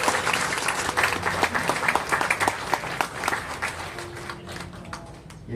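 Sustained applause from a church congregation at a memorial hall opening ceremony honouring visiting officials, dense steady clapping throughout with slight tapering near the end.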